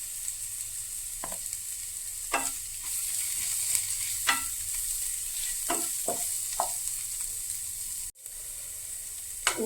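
Spices such as chilli powder are stirred into a frying pan of kothu idli. A constant sizzle carries through, and a spoon scrapes the pan several times.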